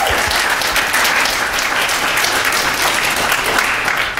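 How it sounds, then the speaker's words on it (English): A room full of people clapping steadily, loud and sustained throughout with no voices standing out. "I think we should applaud for Melissa."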